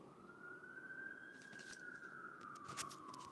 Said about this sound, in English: I don't know if you guys hear the sirens again, but there's sirens here again.